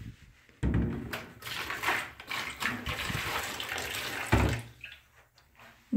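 Hot water gushes from a tap into a wash bin for a tub spout soaking job, a loud splashing rush that starts abruptly, runs steadily for several seconds, then cuts off, with a brief clunk near the end.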